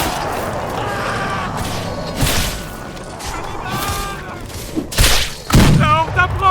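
Explosive barrel blasts in a French-language zombie horde video game, heavy booms and crashing bursts with scattered gunfire across the clip, under game character voices calling out.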